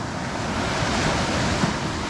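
Waves on the Baltic Sea break steadily against a beach shore, a continuous loud roar of surf with wind noise across the microphone.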